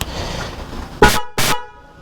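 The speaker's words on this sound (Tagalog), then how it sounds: "Dali naka-dual yan, naka-dual horn." A Honda Click 125i scooter with an added dual horn gives two short, loud honks in quick succession, each a brief bright blast, after a stretch of background noise.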